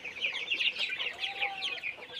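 Around 750 Sonali chicken chicks, 28 days old, cheep and cluck together in a poultry shed, a dense, continuous high chatter at moderate distance with no voices.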